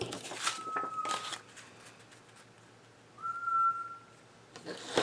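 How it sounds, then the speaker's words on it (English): An African grey parrot gives two short, clear whistled notes separated by a pause, faint under room noise with soft shuffling and handling sounds indoors during card crafting. "I don't know if you can hear my bird."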